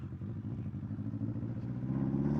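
A 1979 Honda CB750F Super Sport motorcycle cruises at moderate speed, its four-cylinder engine giving a steady, throbbing low hum that swells slightly toward the end, heard close from the rider's position.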